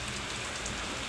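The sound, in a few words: heavy rain splashing into a room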